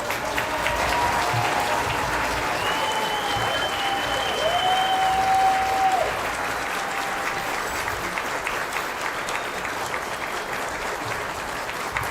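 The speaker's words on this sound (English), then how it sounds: "Let's have another round of applause." An audience claps in a sustained, dense wash of applause lasting over twelve seconds, loud at first and easing slightly toward the end, with faint whistles and cheers.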